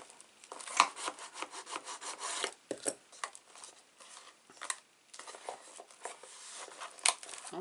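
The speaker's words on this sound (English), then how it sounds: "rub your bone folder in there" A bone folder rubs down glued card inside a gift stationery box, making a soft, close scratchy scraping in uneven strokes with short pauses, heard alone without speech.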